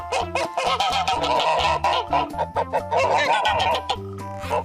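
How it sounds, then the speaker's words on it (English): Geese honk repeatedly in loud, rapid bursts, overlapping nasal calls over a rhythmic musical accompaniment. "goose, goose,"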